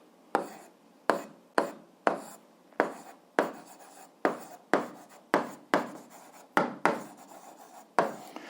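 Marker or chalk strokes write out a math solution for an 8th-grade algebra exercise on a board: about a dozen crisp, close scratching strokes in an uneven rhythm, each with a short trailing rasp.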